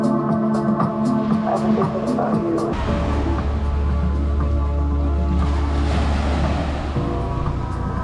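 Indian Ocean surf washes onto a Zanzibar beach as a low, steady rush of water and wind. It sits loud and near and follows a brief stretch of other background noise.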